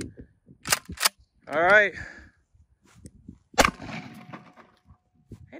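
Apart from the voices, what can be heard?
Mossberg shotgun shots fired at pavers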